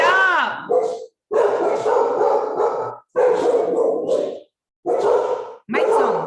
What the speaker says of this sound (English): So I don't know why they're barking.